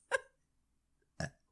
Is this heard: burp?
yes